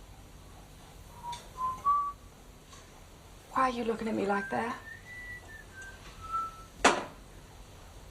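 A person whistles a short melodic tune in an indoor scene from a 1976 drama, brief rising notes at first, then a clearer whistled phrase after a burst of speech, ending with a sharp accent.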